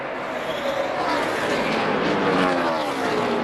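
NASCAR stock cars race at Charlotte in a loud, continuous engine roar that swells as the pack goes by, with a commentator faintly audible underneath.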